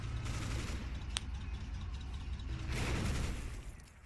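Long Tom artillery firing in the Men of War: Assault Squad 2 video game, a low distant rumble of booms and gunfire with one sharp crack partway through, fairly faint overall.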